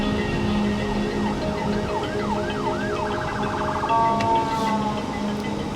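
An ambulance siren sounds loud and close, sweeping through a rising and falling wail that quickens into a rapid yelp, over a low rumble of road traffic.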